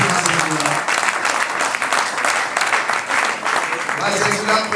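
Guests at an evening celebration applaud warmly, a continuous, full-bodied round of clapping that carries on at steady volume, with some voices mixed into the din.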